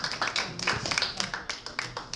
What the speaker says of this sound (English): Give that round of applause.